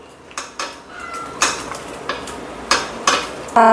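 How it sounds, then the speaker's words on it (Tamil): A spoon clinks and scrapes against a metal vessel while ground masala is mixed into fish for a tilapia curry, a series of bright, close knocks and scrapes with a ringing clang at the end. "எல்லாத்தையும் நல்லா கிளறி வச்சிடலாம்"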